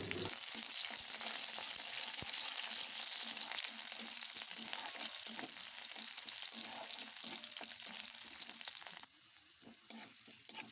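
Capsicum pieces frying in hot oil with bay leaf and whole garam masala spices, a steady dense sizzle with occasional stirring clicks that drops noticeably quieter near the end.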